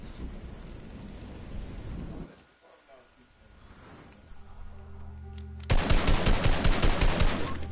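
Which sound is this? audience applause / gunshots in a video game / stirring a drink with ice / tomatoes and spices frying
gunshots in a video game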